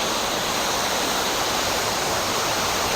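Helmcken Falls in Wells Gray, British Columbia, a big waterfall heard up close as a loud, steady, broadband roar of crashing water, with no voices over it.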